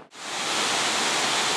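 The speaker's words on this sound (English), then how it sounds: "So this is Waialua Falls" Waialua Falls in Hawaii roars as a steady, dense rush of falling water that swells in within the first moment and then holds loud and unbroken.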